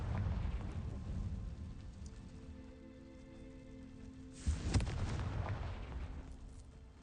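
Confringo spell explosion in the Hogwarts Legacy video game: a low rumbling roar holds steady, then a burst breaks through midway and fades into a dense, rain-like crackle.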